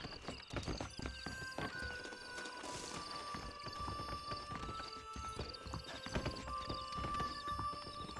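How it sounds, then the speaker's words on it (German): Horse hooves clip-clopping steadily with a whinny, from the video game Red Dead Redemption, set against layered game music and ambience. "Hier ist ein Pferd, das ist bestimmt nicht meins."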